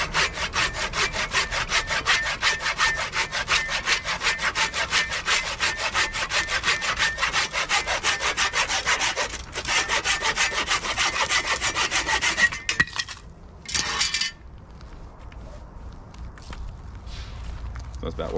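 Wood is sawn on a cheap sawhorse while building a stand for a bee swarm trap, with fast, even rasping strokes close by that stop after about twelve seconds, followed by a few knocks and handling sounds.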